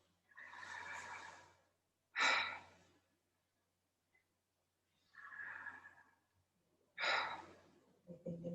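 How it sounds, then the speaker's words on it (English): Yoga pranayama breathing through the mouth: two long breathy exhales alternate with sharp, forceful inhalations in a steady cycle, close and clear in an otherwise quiet room. "Breathing in through the mouth, out."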